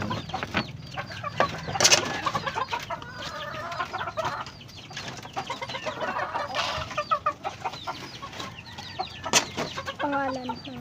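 Chickens kept as backyard fowl clucking busily while being fed, a dense chatter of overlapping clucks and squawks close by, with occasional sharper calls standing out.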